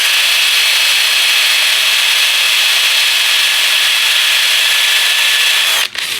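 A sharp bit drilling a pilot hole into a soft, broken steel bolt, giving a continuous loud high-pitched whine that holds steady before a brief dip at the very end.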